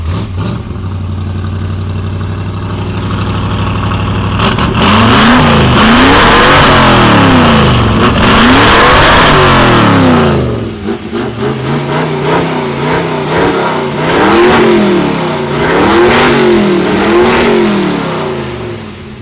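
A 1935 International hot rod pickup idles with a low rumble, then roars loudly as the engine is revved hard in several sweeping rises and falls, close and alone.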